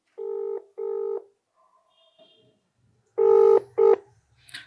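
Telephone keypad tones beep as a number is dialed to call Feroz Khan: two steady beeps, a pause with faint background noise, then two more beeps, loud and close.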